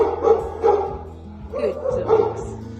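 Scared rescue dogs from Romania bark and yip repeatedly in a rapid, uneven series, close and fairly loud.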